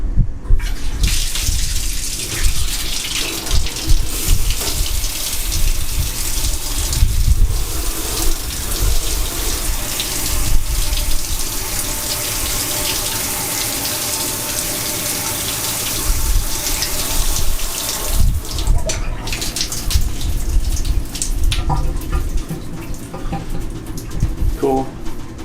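Shower water runs steadily through a Berkey shower filter in a home bathroom, a continuous hissing spray that keeps up for the whole stretch, with a voice speaking briefly over it.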